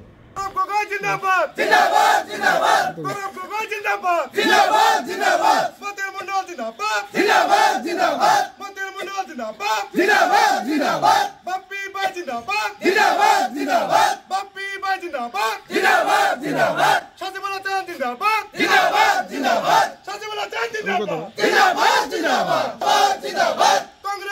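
Congress party workers celebrating at Hatsingimari, a crowd chanting and cheering in loud rhythmic bursts with brief pauses between shouts, sustained throughout.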